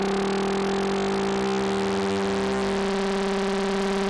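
A Novation Summit synthesizer holds a loud sustained tone whose LFO modulation speeds up toward audio rate, turning a fast wobble into a buzzing, growling timbre that shifts and thickens over several seconds, with no voices.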